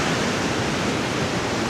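Continuous broadband roar of ocean waves at a beach in Da Nang during rainy season, loud and steady with no distinct breaks or voices.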